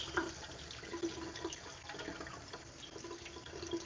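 Rice being washed under running tap water in a kitchen sink while preparing bibimbap, a steady wash of flowing water with faint clinks and splashes throughout.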